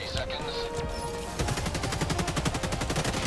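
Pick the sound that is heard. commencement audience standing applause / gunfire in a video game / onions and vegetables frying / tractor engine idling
gunfire in a video game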